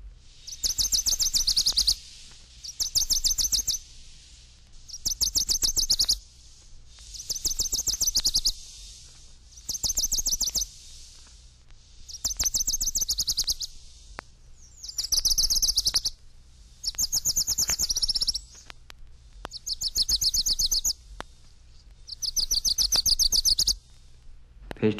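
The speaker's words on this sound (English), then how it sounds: "Wilson's Warbler." Wilson's Warbler song from eastern and central North America: about ten bright, rapid chattering bursts, each lasting a second or two, repeated steadily with short pauses between them, clear and fairly close.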